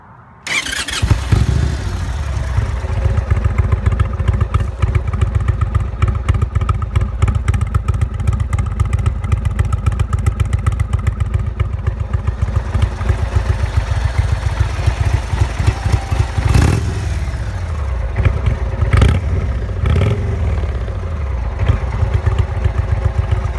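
A motorcycle with a 111 engine cranks and fires up, then settles into a loud, close, lumpy idle with a rapid pulsing beat and a couple of sharp throttle blips near the end.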